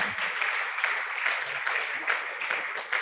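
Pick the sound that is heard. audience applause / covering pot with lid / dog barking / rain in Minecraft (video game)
audience applause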